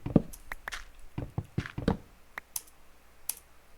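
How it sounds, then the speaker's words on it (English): Computer keyboard typing during Minecraft play, a run of close, irregular clicky keystrokes with short pauses between bursts, alone without talk. "You can hear my keyboard."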